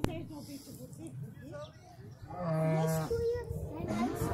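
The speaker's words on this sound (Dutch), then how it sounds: "Daar zijn er al koeien," Cows moo in a pasture, with one long, drawn-out low moo in the middle and other cattle sounds around it, and people speak nearby.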